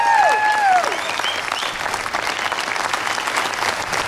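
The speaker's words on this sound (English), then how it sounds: "Give yourself a round of applause for that work" Applause from a political rally crowd in Sheboygan, a dense burst of clapping that carries on steadily, with a short whistle or cheer near the start.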